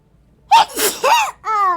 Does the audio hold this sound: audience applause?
no